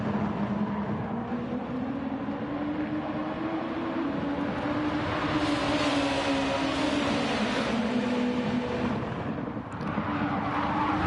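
Race car engines drone continuously in a sim racing league game, a steady loud whine that rises and falls slightly as the cars run together, with no break over the whole stretch.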